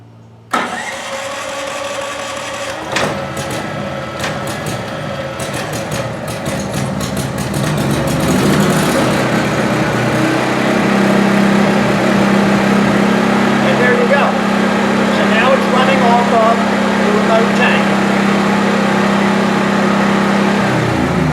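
Gidrox 6000 generator running on a remote fuel tank starts after a few cranking clatters, then settles into a loud, steady engine drone that rises as it warms, with someone talking over it.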